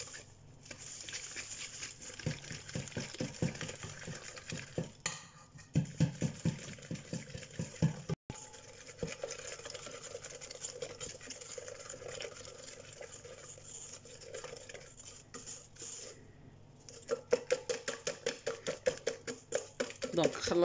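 Ghoriba cookie dough is stirred with sugar in a bowl, giving repeated scraping and tapping strokes in bursts. Someone speaks over parts of it.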